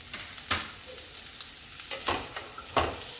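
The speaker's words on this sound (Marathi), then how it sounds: "आता आपण ह्याच्यात गाजर टाकूयात।" Carrots sautéed in a pan with a pinch of turmeric give a quiet sizzle, broken by several distinct scraping stirs of a spoon against the pan at irregular intervals.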